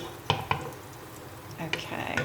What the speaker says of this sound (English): I love the smell of cooked onion when it's frying.